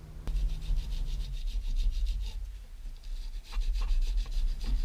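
A brush scrubs grease and dirt off a master cylinder from a 1970 VW Camper Bus, a close, continuous rasping rub with rhythmic strokes and brief pauses.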